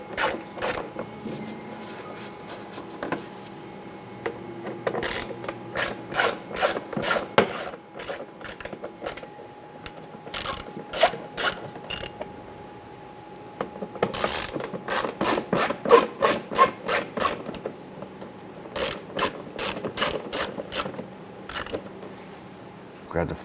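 Ratchet clicking in repeated bursts as it loosens T20 Torx screws holding the mud flap on a 2008-2013 Nissan Rogue, fast pawl ticks in runs separated by short pauses, close and fairly loud.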